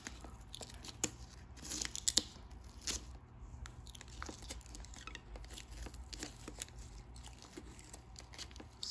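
An adhesive car emblem is peeled away with masking tape, giving a close, faint sticky tearing and crinkling with a louder ripping burst early on, then intermittent small crackles over a low background hum.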